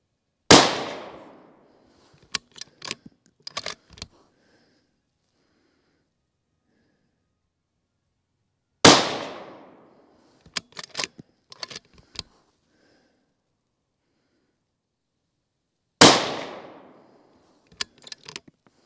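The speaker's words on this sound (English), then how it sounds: "And that was a 3-shot group." An Accuracy International AT-X rifle chambered in 6BR fires three separate shots, each a loud, sharp crack with a short decaying tail. Each shot is followed by the clacks of the bolt cycling, and there is near silence between shots.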